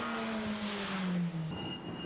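A Formula Renault race car engine screams past at high revs at Mondello Park, its pitch dropping as it goes by, loud and close, then fading into the distance.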